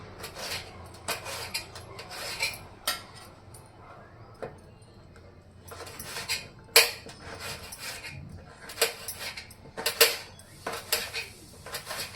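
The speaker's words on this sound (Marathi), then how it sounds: "अशा मस्त उभ्या काप अशा प्रकारे आपल्याला कापून घ्यायचे बघा" A knife slices bell peppers lengthwise into strips on a cutting board, making bursts of crisp cutting and scraping strokes in uneven clusters, fairly close, with no talking.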